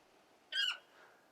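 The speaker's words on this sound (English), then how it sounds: "Bird like her would have cost a princely sum." A single short bird squawk from a trained bird companion in the Final Fantasy XVI video game, sharp and near, rising then falling, with faint background ambience after.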